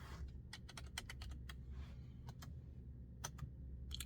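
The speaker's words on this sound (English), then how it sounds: "Let's type in Adam" Typing on a computer keyboard to enter a name, a steady run of close, crisp key clicks in quick irregular bursts with short pauses, over a low background hum.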